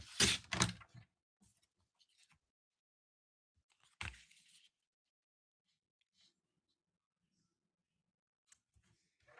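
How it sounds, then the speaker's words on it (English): A paper trimmer slices cardstock during a stamping craft project: a couple of quick, close cutting strokes at the very start, one more soft click a few seconds later, then near silence with no talk. "I'm going to grab my trimmer and I'm going to trim off those excesses there."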